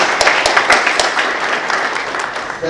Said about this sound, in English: I clap for him, applause.